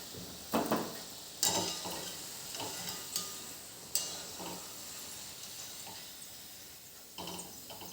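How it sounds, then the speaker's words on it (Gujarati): Lilva kachori frying in oil, a soft continuous sizzle broken by several sharp clicks and scrapes of a slotted spoon against the pan, fairly quiet with no talking. "આ રીતે આપણે બીજી બધી કચોરી તળી લેવાની છે"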